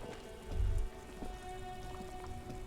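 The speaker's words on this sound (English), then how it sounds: "Droplets of rain fall on the white on blue police livery of the motor carriage." Rain falls steadily on the white-and-blue police livery of a motor carriage in Disco Elysium, a soft continuous patter with a low thump near the start and faint ambient tones beneath.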